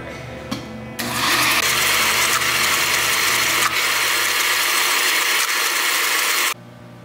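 A blender whirs loudly and steadily for about five and a half seconds, mixing truffle mayonnaise with olive oil for a BLT sandwich, after a brief quiet start, then cuts off abruptly.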